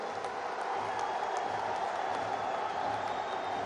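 Steady, dense applause from a large crowd at a political speech, a continuous broad wash of clapping that holds at an even loudness throughout without any speech over it.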